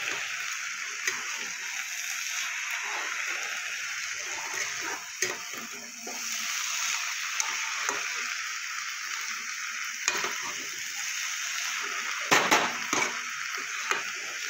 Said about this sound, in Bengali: এবার আমি সব কিছুর সাথে ভালো করে মিশিয়ে নেব